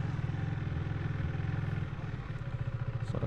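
A motorcycle engine runs close and steady at a low throbbing idle-like pulse as the rider holds the clutch in and brakes to a stop, with a slight dip and recovery midway and no speech.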